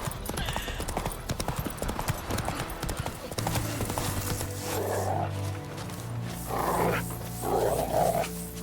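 Roach, the horse in The Witcher 3's White Orchard, gallops with rapid, steady hoof clip-clops up close, joined later by heavy snorting breaths and bursts of battlefield ambience and music.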